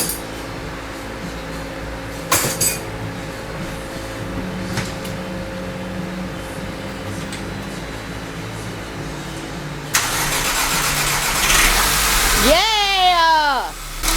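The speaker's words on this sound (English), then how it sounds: "It sounds like it's cranking okay." A 2009 Volkswagen CC 2.0 TSI, being repaired for a failed cam chain tensioner, cranks under a low steady hum, then catches into a loud, steady roar near the end as excited voices shout over it.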